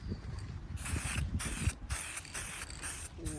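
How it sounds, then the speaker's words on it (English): Aerosol can spraying Eastwood Extreme Chassis Black paint onto rusty Mercedes 107 SL suspension parts, heard as several close hissing bursts of about half a second each, separated by short pauses. "now it's time to spray them up with rust encapsulator, and then we'll finish them with Extreme Chassis Black later"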